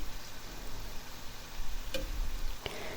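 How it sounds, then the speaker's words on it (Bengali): Mixed vegetable pakora fritters frying in hot oil, a steady low sizzle with faint crackles and a couple of sharp ticks, close and alone with no voices. "তো আমি এক এক করে সবগুলো ভেজে নেব।"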